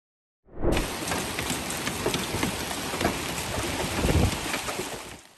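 Steady heavy rain pours down during a hailstorm in Louisiana with a dense, constant hiss, rising slightly toward the end, with no thunder clearly audible.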